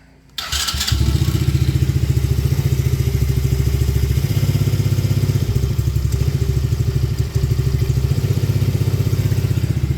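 A small engine on a cold start with partial choke catches after a brief crank and settles into a loud, steady, rapidly chugging idle with a constant mechanical clatter.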